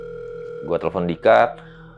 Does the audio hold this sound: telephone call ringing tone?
yes